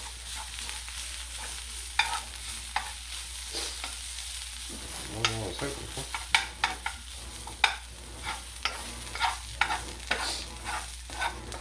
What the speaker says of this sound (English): Start to brown it. Start to fry to the bottom of the pan, actually.